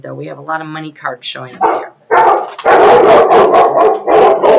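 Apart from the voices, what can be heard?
dogs barking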